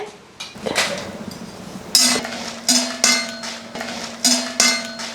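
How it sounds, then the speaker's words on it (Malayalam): Chillies roasting in a pan are stirred with a metal utensil that scrapes and clinks against the pan in a steady rhythm, a series of sharp clanks up close. "അപ്പോൾ മുളക് ആദ്യം വറുത്തെടുക്കട്ടെ"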